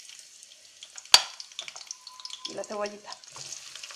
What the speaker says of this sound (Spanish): Vamos a ir echando los ajos.